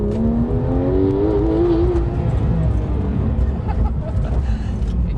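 Porsche 911 GT3 (991.2) sports car driving over a bumpy road, engine note rising steadily as it accelerates, a continuous loud close drone with road and tyre rumble and no talk.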